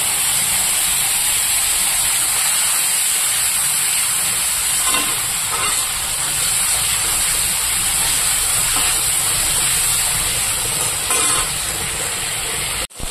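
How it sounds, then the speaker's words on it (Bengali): Salted, turmeric-rubbed dried fish frying in oil in a pan, giving a steady, loud sizzle and hiss that holds evenly throughout with no talking. "তো শুকনো মাছটা ভাজা হয়ে গেছে"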